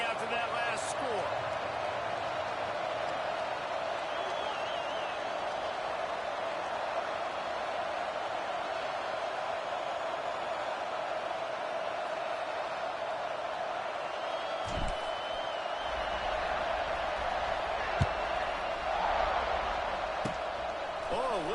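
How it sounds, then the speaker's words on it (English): A football stadium crowd hums as a broad, steady roar throughout, with a commentator talking over it and a few thuds and distant whoops. "this crowd is buzzing after that last score"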